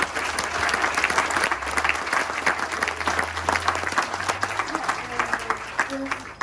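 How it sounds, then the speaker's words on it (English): An audience at an anniversary keynote bursts into sustained applause, dense clapping from many hands holding steady the whole time, with a few voices faintly underneath. "round of applause for that"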